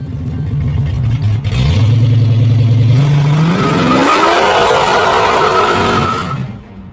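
A 1969 Dodge Charger Daytona with a 426 Hemi V8 roars loudly up close, its engine note climbing steadily through a long rev before fading away near the end.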